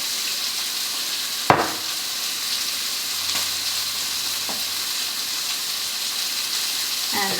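Olive oil sizzling and frying in a pan while salmon cooks, a steady bright crackling hiss with a sharp clatter early on and a few lighter knocks of utensils.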